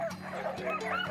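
Huskies in a Yukon yard bark and yip excitedly, a quick burst of overlapping close yelps and whines lasting about a second.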